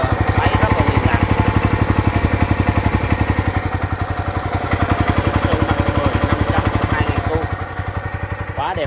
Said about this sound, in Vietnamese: Tiếng máy nổ im ru ha. Máy nổ rất là im.